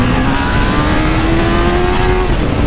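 A Honda CB1000 motorcycle accelerates hard, its engine note climbing steadily in a loud, continuous roar that fills the whole stretch with no talking.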